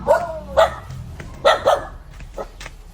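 A dog barks in short, sharp bursts, a few yips spaced unevenly, fairly close with some outdoor background.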